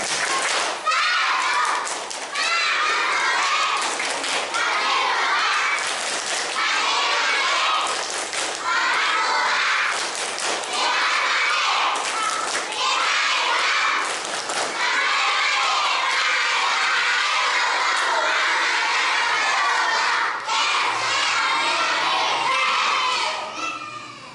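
Children at a Ramadan religious gathering perform the 'tepuk anak soleh' clapping chant, loud group voices chanting in rhythm with bursts of claps and thumps, sustained across the whole stretch.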